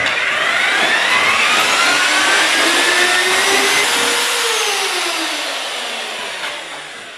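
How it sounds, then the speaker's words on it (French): A mixer churning mortar for repointing stonework in a bucket, a loud, steady whirring drone whose pitch sweeps gently up and back down before easing off at the end. "Il faut un mélangeur, absolument. Et on mélange tout ça."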